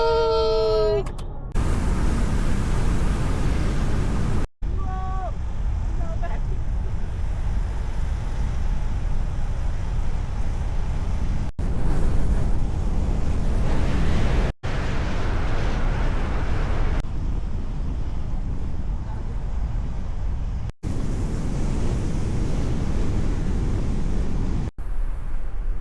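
Strong wind roars and buffets the microphone almost continuously in Sinait, Ilocos Norte, a heavy low rumble with brief cuts, faint voices now and then beneath it.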